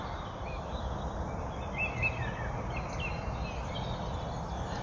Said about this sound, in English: So we're starting to get some other birds joining the dawn chorus now. I can hear blue tits and great tits calling on my right